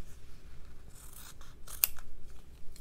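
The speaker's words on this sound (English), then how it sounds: "And I'll just cut a round shape." Scissors snip through fabric backing while a round shape is cut out, a few quiet rasping strokes close by, with one sharper crisp snip near the end and no talking.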